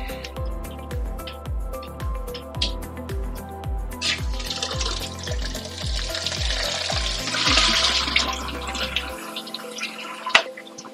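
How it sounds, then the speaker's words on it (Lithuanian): A dissolved solution is poured into a brewing pot for an IPA, giving a soft splashing, hissing pour beneath steady rhythmic background music that stops abruptly near the end. "Tirpaliuką pilame į puodą"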